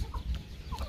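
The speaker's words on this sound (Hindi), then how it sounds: "गोरे ने मुर्गियां मुर्गे भी रखे हुए हैं" Chickens and roosters on a farm give soft, close clucks, two or three short calls over a low rumbling background, no talking.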